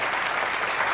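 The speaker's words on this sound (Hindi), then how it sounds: "जोरदार तालियां श्रुति और प्रवीण के लिए।" A studio audience at a television game show applauds in a dense, steady burst of clapping.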